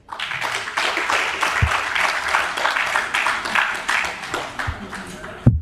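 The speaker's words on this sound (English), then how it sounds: "Please, another round of applause" An audience applauding after a talk on ethnographic museum collections, a broad wash of many hands clapping that swells and then tapers off, with a few louder close claps and some voices underneath.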